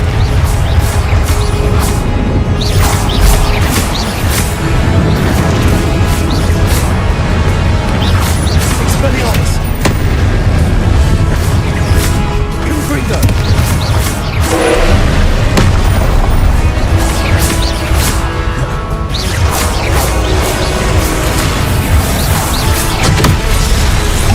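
Repeated Confringo spell explosions in the Hogwarts Legacy video game boom and crash over dense, loud combat noise throughout, with a voice talking over much of the action.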